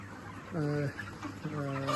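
A chicken clucks close by in two short bursts of repeated, nasal clucks separated by a brief pause, over a faint background hum.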